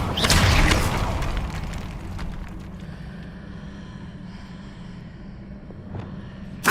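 Incendio fire spell in the video game Hogwarts Legacy, a loud burst of booming fire at the start that decays into a lingering low rumble and crackle, with a short thump near the end.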